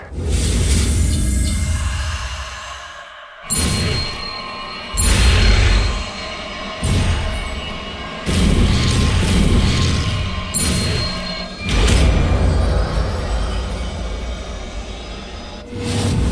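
Confringo spell cast and explosions in the video game Hogwarts Legacy, several loud booming blasts spaced a second or two apart over a continuous rumbling background, with no talk.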